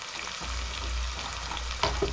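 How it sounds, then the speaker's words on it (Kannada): Ginger garlic paste frying in a pan for an Uttara Karnataka dish, giving a steady low sizzle that runs throughout, with a brief sharper clink or stir near the end and no talking. "ಈಗಿದು ಹಸಿ ಸ್ಮೆಲ್ ಹೋಗೋದಕ್ಕೆ ಶುಂಠಿ ಬೆಳ್ಳುಳ್ಳಿ ಪೇಸ್ಟ್ ಸ್ವಲ್ಪ ಕುದಿಯೋದಕ್ಕೆ ಬಿಡೋಣ"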